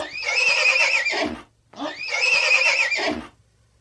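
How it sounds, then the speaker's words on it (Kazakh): A horse gives two loud, close whinnies, each about a second and a half long with a rising then falling shrill tone, separated by a short silence. "Жылқы кісінейді."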